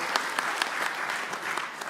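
Crowd applause at a PDI Perjuangan political event announcing a vice-presidential candidate: many people clapping in a continuous, moderately loud patter that holds evenly for about two seconds.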